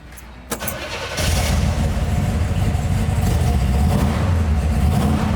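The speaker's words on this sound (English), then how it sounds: "I'm going to go ahead here and fire her up for you guys." A 1969 Chevrolet Camaro SS big-block with a cowl induction hood cranks briefly, then fires and settles into a loud, steady, rumbling idle close by.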